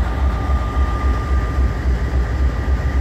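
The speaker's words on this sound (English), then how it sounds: "And look, we got another coal train." A coal train rolls past close by, a loud steady low rumble of railcars with rhythmic clatter and a faint sustained tone above it, no voices.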